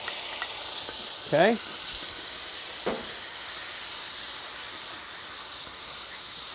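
Garlic sizzling on a hot plow disc, a steady hissing fry with two brief scraping strokes of a spatula across the metal; a short spoken word is heard.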